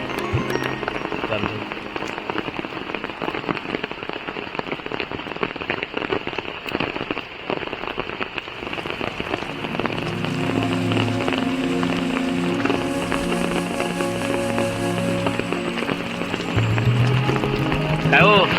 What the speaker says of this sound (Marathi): पाऊस भरपूर पडतोय